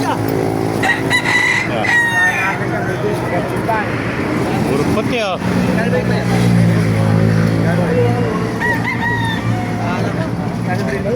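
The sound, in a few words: rooster crowing at a market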